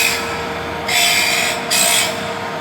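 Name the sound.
Vollmer sharpening machine sharpening a blade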